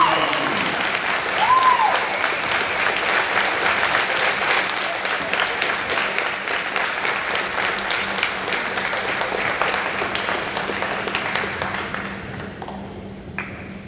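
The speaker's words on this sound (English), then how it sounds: "join me in giving our veterans an outstanding round of applause" A high school veterans day assembly crowd gives standing applause, loud sustained clapping that holds steady before thinning out and fading near the end, with a brief ringing tone early on.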